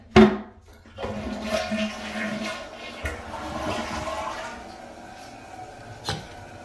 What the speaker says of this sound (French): On va flusher.